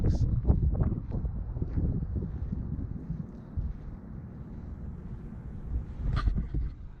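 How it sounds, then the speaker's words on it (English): Wind gusts buffet a microphone outdoors beside a 2018 Mustang GT, a steady low rumble that swells and eases across the whole clip, with a voice talking over it. "sorry about the wind"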